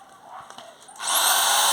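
A power drill boring into wood, its motor rising to a loud steady whine after a second of quieter handling noise.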